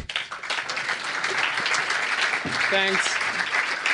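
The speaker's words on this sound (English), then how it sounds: "You can start clapping." Audience applause at a startup pitch event, a steady wash of clapping filling the room throughout, with a brief spoken word of thanks near the end.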